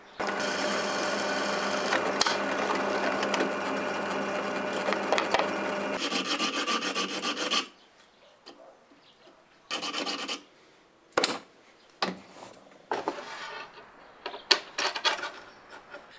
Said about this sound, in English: before tidying it up with a file